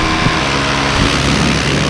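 A paramotor engine drones steadily and loudly up close during flight, a constant buzzing roar without pauses.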